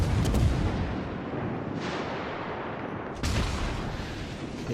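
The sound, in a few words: Hipper cruiser guns firing in video game World of Warships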